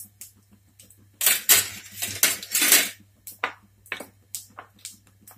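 Spices with a pinch of hing stirred in a metal cooking pan, a spoon scraping in bursts and then tapping and clinking against the pan in a quick rhythm, close and alone over a low hum.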